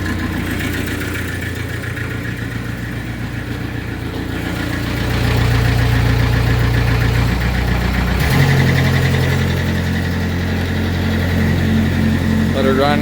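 A car engine idles steadily after a cold start in an unheated shop at about minus six Celsius, a loud close rumble that rises slightly partway through, with a voice talking briefly over it.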